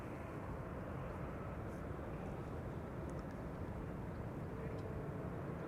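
An Airbus A321neo airliner at Amsterdam Schiphol Airport gives a steady, distant engine roar that holds level throughout, faint and broadband, with no talk.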